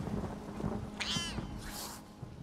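A cat meows in The Elder Scrolls Online, a single drawn-out call standing out clearly over low game ambience, followed by softer hissing air-like sound.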